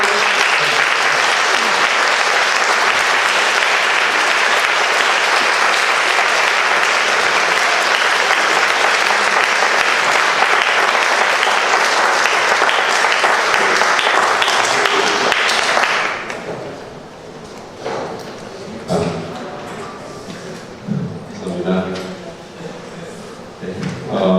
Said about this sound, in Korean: 이 시간에 이재기 목사님 나오실 때 뜨거운 박수로